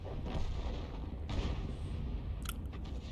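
A Bat.-Châtillon 155 58 tank in a video game fires an artillery shell, a deep rumbling boom that fills the clip, followed by a brief sharper crack near the end.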